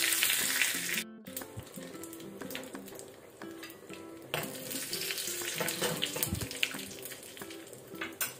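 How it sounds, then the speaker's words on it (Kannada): Curry leaves sizzle in hot coconut oil during a seasoning, a close, steady frying hiss with brief crackles and a few metallic clinks of a pan. "ಆನಂತರ 1 ಕಡ್ಡಿ ಒಗ್ಗರಣೆ ಸೊಪ್ಪು ಕರಿಲಿ."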